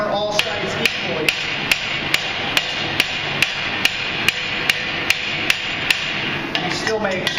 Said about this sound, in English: hammer all sides equally